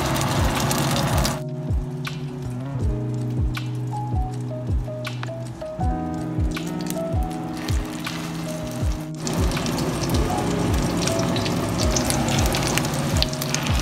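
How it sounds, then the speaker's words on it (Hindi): Egg-dipped chicken and potato kebabs shallow fry in hot oil, sizzling and spitting loudly up close, with repeated clacks of pieces being set into the pan and a bright burst of crackling as more go in. "हम शैलो फ्राई करेंगे।"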